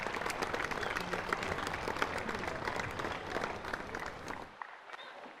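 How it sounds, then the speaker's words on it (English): An audience claps for the guest of honor at a tennis tournament ceremony in New Delhi, a loud, dense round of applause lasting about four seconds before cutting off sharply. "Can we also have a huge round of applause for our guest of honor, Mr. Naor Gilon"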